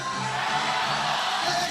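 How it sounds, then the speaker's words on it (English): A large crowd at a FIBA 3x3 basketball Olympic qualifying tournament roars steadily and loudly, a dense wall of cheering and yelling with no break. "Sounds like a capacity crowd with Hong Kong knocking on the door."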